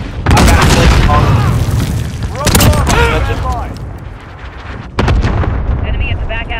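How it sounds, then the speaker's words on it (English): Cluster strike explosions hit in a shooter game as a string of heavy booms and blasts with rumbling tails. There are three main bursts, loud and close, and a voice talks between them. "Enemy cluster strike incoming."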